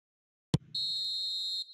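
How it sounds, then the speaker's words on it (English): Referee's final whistle in the eFootball video game, a sharp click followed by a single sustained shrill blast lasting about a second, clear and alone. "Added time is up, and there goes the whistle."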